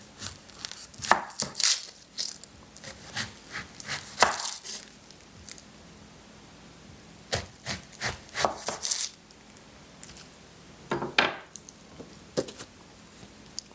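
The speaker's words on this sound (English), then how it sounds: "I'm just gonna cut this onion really small" Knife blade knocking rapidly against a cutting board as an onion is diced small in a home kitchen, bursts of close, crisp chops separated by short pauses.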